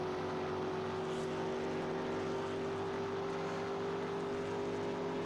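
A race car engine in the NASCAR Legends video game, running a custom 1970-era sound pack, holds a steady, loud droning tone with strong low harmonics, continuous and unbroken with no talk over it.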